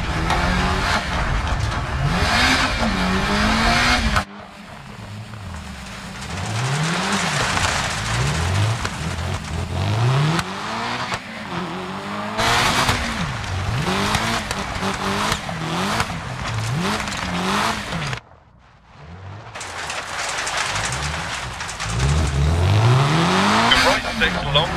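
A Peugeot 205 Group B rally car races a gravel stage in Greece in the video game Dirt Rally, its engine revving and rising repeatedly through gear changes, with tire noise and brief drops in sound, loud and continuous throughout.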